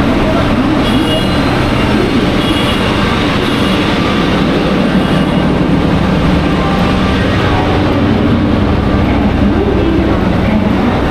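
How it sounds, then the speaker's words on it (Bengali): The 13009 Doon Express with new LHB coaches at Howrah station, a loud continuous rumble of rail cars on the track with platform noise, steady throughout. "আমাদের ট্রেন দুন এক্সপ্রেস অলরেডি দিয়ে দিয়েছে আমাদের স্টেশনে"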